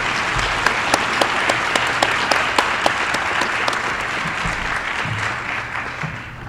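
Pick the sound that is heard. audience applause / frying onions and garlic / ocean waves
audience applause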